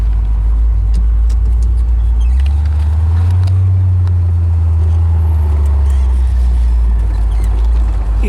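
A 1968 Chevrolet Corvette 427 big-block convertible rumbles steadily up close while driving, its deep engine note swelling through a U-turn and easing back, loud and continuous.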